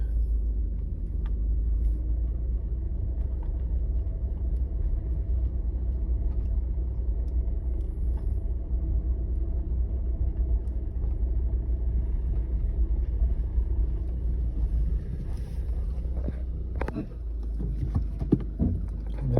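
A VW Golf with TPS and ABS warning lights on creeps forward slowly, giving a steady low engine and road rumble close by, with faint clicks and knocks near the end.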